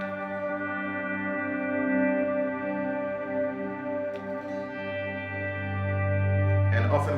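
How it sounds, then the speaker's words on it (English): A worship-style electric guitar chord rings out through reverb and delay into a sustained ambient pad, swelling softly with a low note entering near the end. "with some reverb and delay, it just rings out and creates that beautiful pad kind of a sound."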